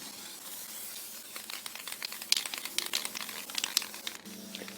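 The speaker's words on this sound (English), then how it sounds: "spray paint" Black spray paint is sprayed in a series of short, crackling hisses that grow busier partway through, fairly faint and close, with no talking.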